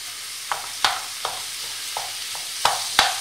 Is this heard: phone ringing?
no